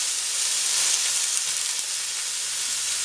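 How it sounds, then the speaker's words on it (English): Spinach sautes in a hot pan with a steady, bright sizzle and hiss that holds evenly throughout, close and fairly loud, with no voices. "So while this is sauteing"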